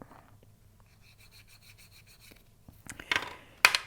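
Hand sanding a stone on a sterling silver cuff bracelet, with short rubbing, rasping strokes, quiet at first and then a few louder, sharper scrapes near the end; no voices.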